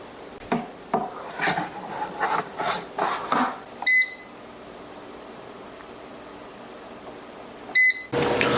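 An air fryer used for roasting potatoes whirs and rattles in bursts, then beeps twice with clear electronic tones, the second beep followed by more running noise.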